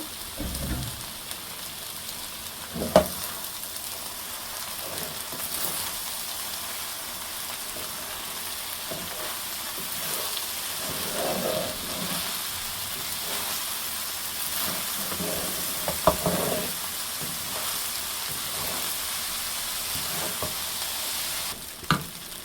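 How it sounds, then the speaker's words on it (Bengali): Spicy fried rice with coriander leaves tossed and mixed in a hot pan: continuous loud sizzling with repeated scraping and stirring strokes, and occasional sharp clinks of the spatula against the pan, close up, with no speech. "এখন এটা আমি সুন্দর করে রাইসের সঙ্গে মিশিয়ে নিব।"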